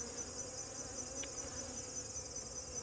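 Bees buzzing around a beehive during winter preparation, a faint, steady insect drone with a continuous high whine and no breaks.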